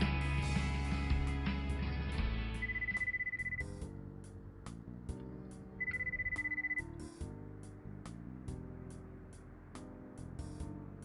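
A telephone rings with an electronic ringtone melody of bright sustained tones and sharp repeated clicks, fairly faint and alone, with no voices.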